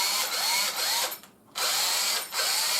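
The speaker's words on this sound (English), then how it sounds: "A drill. Drills." A DeWalt 18V cordless drill runs in close, loud bursts, its motor whining up and down in pitch with short pauses between pulls of the trigger.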